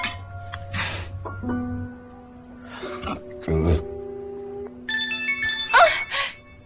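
A phone ringtone plays a melodic electronic tune, with clinks and a throat clear among household noise.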